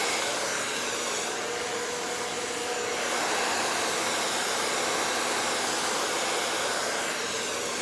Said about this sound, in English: Blow dry against the root just a little bit